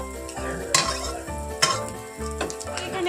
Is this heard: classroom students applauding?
no